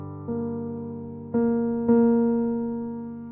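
Synthetic piano-like tones from notation playback: three chords entering one after another, each sustained and overlapping, clean and steady with no voices.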